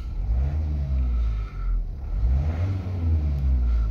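A Vauxhall Vivaro / Renault Trafic van engine with a MAF sensor fault is revved in repeated swells, the low engine note climbing and falling back several times, close and fairly loud.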